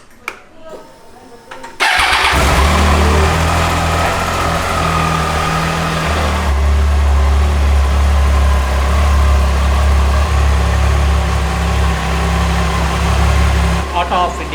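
A Triumph Tiger motorcycle engine cranks and catches after a short quiet start, then settles into a loud, steady, close idle with a low rumble that holds for the rest of the clip.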